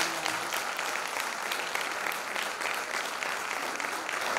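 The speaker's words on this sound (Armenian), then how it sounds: "Շատ ծափահարենք այս փառատոնի տնօրենին" Audience applause fills a theatre hall at a theatre festival, greeting the festival director with a steady, dense wash of clapping that holds at an even level throughout.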